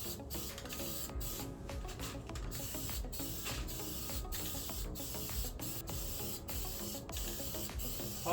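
Aerosol spray paint can spraying satin black onto a Quintrex Dory 420 aluminium boat, a steady close hiss broken by short regular pauses as the nozzle is released and pressed again, with no talk.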